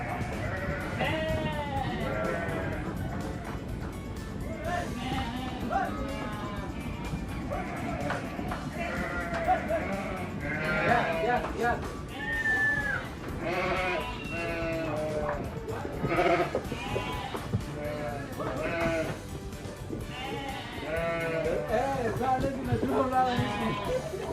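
Several sheep, Sakız, Kıvırcık and Merino breeds, bleat repeatedly, close and overlapping on a farm, with a voice speaking intermittently among the animals.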